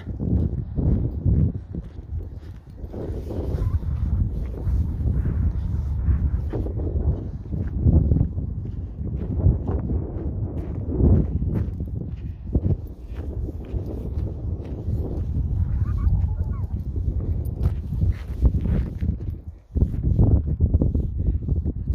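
Strong wind on a field walk in Sutton Bridge, buffeting the microphone with loud, gusty low roaring that swells and dips over footsteps and rustling, with no speech.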